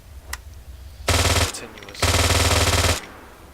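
An OPTRE weapon in Arma 3 firing in two loud, rapid automatic bursts, a short one followed by a longer one after a brief pause, with faint talk before the shooting.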